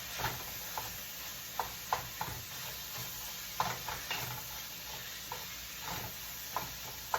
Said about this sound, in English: I'm just going to kind of chop that meat up.